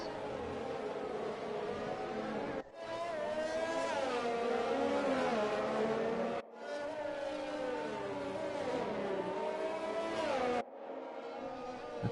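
F1 race cars in a racing video game idle and rev through the formation lap at Monaco, with a steady droning engine whine that rises and falls in pitch, cut by brief gaps.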